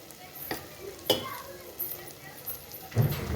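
Spices, garlic and tomato sizzle in hot oil while being tempered for dhokri nu shaak, a soft steady fry under several sharp stirs and scrapes of a spoon against the pan.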